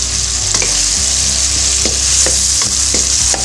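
Ginger garlic paste hits hot oil in a pan with a loud, steady sizzle, broken by a few stirring scrapes and clicks, with no voices.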